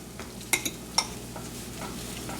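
A quick stir of a cooking pot holding celery, with a few sharp utensil scrapes and knocks against the pot over a faint background hiss.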